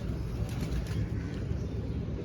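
Soft, low pigeon coos murmur continuously nearby over a steady background hum.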